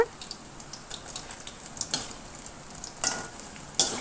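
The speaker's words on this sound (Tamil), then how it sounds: "இப்போ வந்து நம்ம இதில் வந்து நிறைய போட்டு பொரித்து எடுத்துக்க போகிறோம்" Corn snacks deep-fry in oil, crackling and bubbling steadily with irregular pops and a few louder scraping stirs of a ladle, close and clear.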